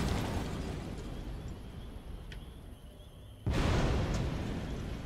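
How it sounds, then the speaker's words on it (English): A grenade explosion in a video game, heard as a dense rumbling blast that fades and then a second loud boom bursting in abruptly near the end. "That grenade we launched down there. We blew everybody up."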